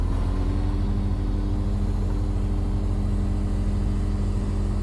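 A stuck flatbed truck's engine labouring steadily as it pulls forward in a field, a loud, continuous low rumble with a constant drone and no voices.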